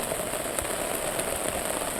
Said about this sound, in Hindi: अभी भी मूसलाधार बारिश स्टार्ट है। इसके रुकने की दूर दूर तक कोई संभावना नहीं है।